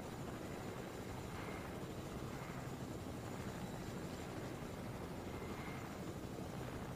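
Steady helicopter rotor and engine drone from a video game, heard faintly and continuously with no talk over it.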